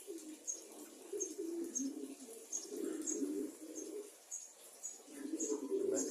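Pigeons coo softly in repeated low phrases on a sunny winter morning, with faint chirps from other birds above them.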